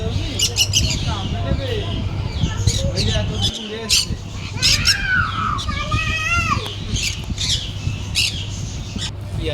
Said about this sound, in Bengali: আর পাখিগুলো এখানে কিচির মিচির করে ডাকছিল